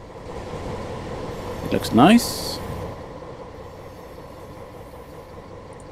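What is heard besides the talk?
train running on rails in video game Train Simulator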